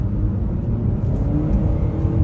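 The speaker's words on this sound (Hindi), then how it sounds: "I'm again shifting, I'm again downshifting it" A Volkswagen Tiguan engine drones and revs while downshifting, a continuous low, loud rumble from inside the moving car that holds steady throughout with no talk over it.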